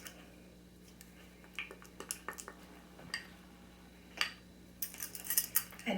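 A bourbon pecan ball candy mixture is stirred in a bowl, giving soft scrapes and intermittent light clinks of a utensil against the bowl. The clinks grow busier toward the end, all fairly quiet and close.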